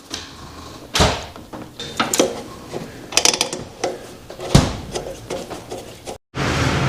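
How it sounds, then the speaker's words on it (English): Metal clicks and clanks from reinstalling brake caliper bolts on an Indian Chieftain motorcycle, several sharp close taps and rattles at uneven intervals, with a brief dropout near the end. "we can reinstall the caliper. I'm going to put a little blue Loctite on the bolts."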